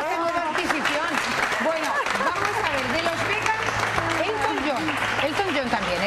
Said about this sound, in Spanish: Un aplauso para esta nueva adquisición